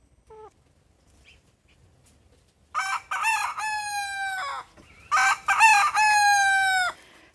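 After a brief faint cluck, roosters crow twice in loud, drawn-out cock-a-doodle-doos, close by, with quiet gaps between the calls.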